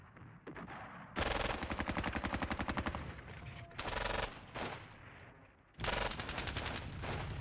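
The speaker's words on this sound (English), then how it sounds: "Take the machine gun here. Start firing at these guys." Machine gun fire from a squad-based World War II battle video game at Ponyri, aimed at enemy squads: three loud, rapid sustained bursts separated by shorter pauses filled with lower rumbling battle noise, no talking.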